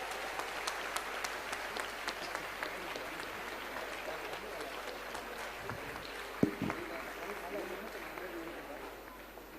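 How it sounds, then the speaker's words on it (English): Audience at an international health summit applauding loudly and steadily for several seconds, a dense wash of many hands with a brief sharper burst near the end. "Please clap loudly."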